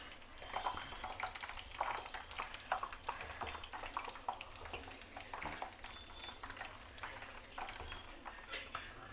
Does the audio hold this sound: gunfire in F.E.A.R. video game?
no